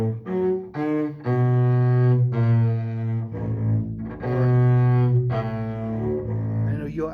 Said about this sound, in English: I would practice this without the trill and the grace note first.